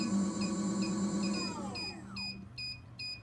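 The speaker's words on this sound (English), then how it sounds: "Press and hold the button till it stops beeping." An electric unicycle, a NineBot One, powers down: a steady electronic hum slides downward and fades, then high, evenly spaced error beeps repeat several times, clear and close.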